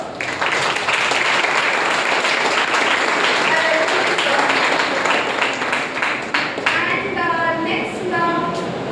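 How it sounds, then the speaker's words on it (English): An audience at a speaking event gives loud, dense applause for a guest speaker, sustained for several seconds, with a voice surfacing over the clapping near the end. "So let's have a huge round of applause for sir."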